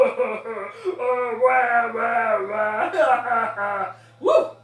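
A voice imitates an elderly person crying, a wavering, moaning whimper that rises and falls over several seconds, ending with a short sharp wail.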